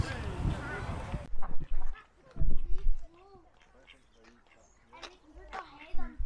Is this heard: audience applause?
no